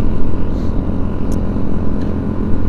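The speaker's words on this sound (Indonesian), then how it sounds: "Ya ini penyakit biasa kalau ditanjakan, saya tidak kuat, motor lemot." An underpowered motorcycle on a Sunday morning group ride to Kopeng strains uphill, its engine a loud, steady low rumble with no letup, close and unaccompanied by voices.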